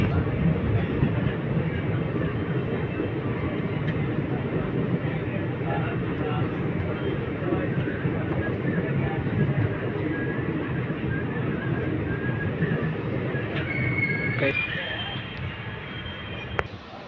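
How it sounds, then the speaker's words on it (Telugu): A passenger train pulls into the first platform at Kaikaluru station with a steady rumble and rattle of rolling wagons that eases off toward the end, and a few faint squeals and clanks come through. "మన ట్రైన్ వచ్చింది ఫస్ట్ ప్లాట్ఫామ్."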